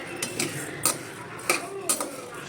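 Basmati rice being dry-roasted in a pan, a utensil scraping and clinking against the metal in irregular strokes, close and fairly quiet, with no talking.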